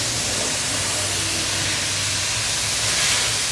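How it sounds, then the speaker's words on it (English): Air nozzle on a long extension blowing dust off surfaces aboard a cruise ship, a steady, loud broadband hiss of compressed air that holds without a break and swells slightly near the end. "I use a really long extension on the air nozzle, and they blow the dust off of the arc."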